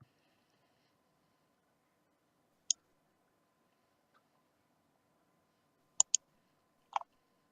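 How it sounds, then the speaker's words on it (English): A few isolated, crisp clicks from number keys being typed on a keyboard, sparse and quiet with long silent gaps between taps and a quick double tap near the end. "I'm just typing in all the numbers."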